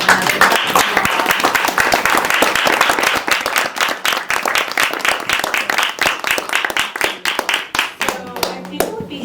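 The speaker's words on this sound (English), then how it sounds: "I just want to give them another round of applause." Audience at a youth film festival panel gives a round of applause, loud close-up claps in a dense rhythmic stream that thins toward the end, with talking heard as it trails off.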